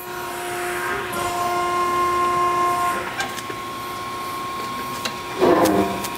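A Baykal APHS 31090 hydraulic press brake hums with a steady pitched whine while bending metal, then eases off, followed by a short clunk and rustle near the end.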